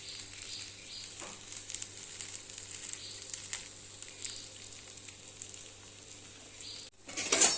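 Ragi adai cooks on a hot pan with a leaf laid on it, giving a steady, close sizzle with faint crackles. A louder scrape or clatter comes at the end.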